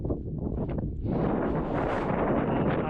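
Strong wind roars and buffets the microphone on a 3500-foot mountain summit in Rangamalai, a dense, continuous rush that grows louder and fuller after the first second.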